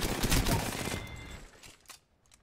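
Rapid gunfire fusillade from Apex Legends, loud and dense for about a second, then thinning into a few fainter shots and a brief final crack before quiet.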